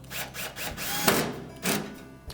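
Power drill or driver sets retaining screws on a Whirlpool washer's drain pump and motor assembly, with short bursts of whirring and a sharp thunk midway, close and moderately loud.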